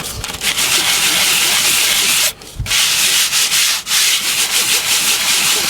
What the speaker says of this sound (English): rough up the back of it a little bit just to key it